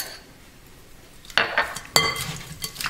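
Shrimp being mixed with Haitian spice in a bowl: a quiet stretch, then a few sharp clinks and scrapes of a utensil against the bowl.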